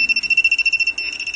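A GP pin pointer metal detector beeps in a rapid, regular series of high electronic pulses, then briefly holds a steadier tone, close and fairly loud with no voices.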